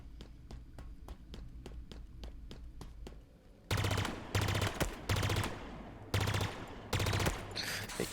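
Weapon fire in the video game Halo Infinite starts as a regular series of single shots, then turns into louder, heavier bursts of rapid automatic fire separated by short pauses.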